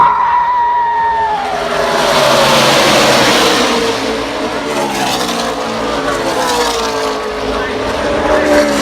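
NASCAR race cars roar past at Talladega, loud engine notes rising and falling as the pack sweeps by, with crowd and voices mixed in the background.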